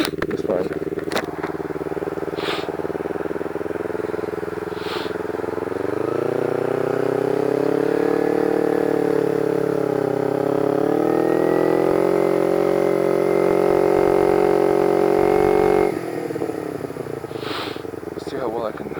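Motorcycle riding on snowy roads, its engine droning steadily close by and rising slightly in pitch as it accelerates before settling back, with occasional brief clicks and thumps.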